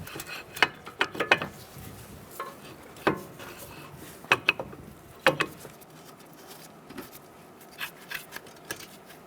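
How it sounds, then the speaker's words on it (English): A 15mm socket ratchet clicks in short irregular bursts, tightening brake caliper bolts on a Ford Taurus, near and fairly quiet, with pauses between the runs of clicking. "I'm going to tighten down those bolts."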